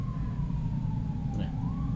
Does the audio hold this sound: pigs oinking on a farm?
no